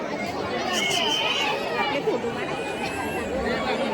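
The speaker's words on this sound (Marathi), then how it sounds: "चला पोचलोय आणि गर्दी खूप आहे इकडे" A dense crowd of devotees fills the grounds of Titwala Siddhivinayak temple, a steady close babble of many overlapping voices with market bustle, loud and continuous throughout.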